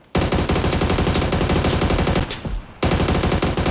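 Rapid automatic gunfire from PUBG, loud and dense, bursting continuously for about two seconds, cutting off briefly, then resuming as another sustained burst.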